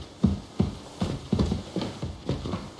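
Horse hooves clip-clop at a steady walking rhythm in Kingdom Come Deliverance II, with about eight distinct, fairly close thuds spaced evenly over a few seconds.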